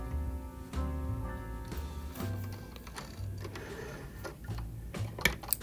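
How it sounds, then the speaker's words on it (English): A sewing machine runs in short motorized bursts while back stitching the end of a fabric scrunchie seam, with a steady mechanical whir and ticking, pausing briefly between runs and ending with a few sharp clicks. "And then we're going towards the end, and I'm going to back stitch."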